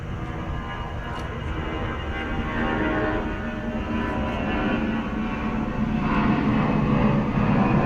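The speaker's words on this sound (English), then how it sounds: "So another aircraft passes up above." A fixed-wing aircraft passes overhead above a cricket ground, its broad engine roar building gradually and holding steady across the stretch, moderately loud and unaccompanied by talk.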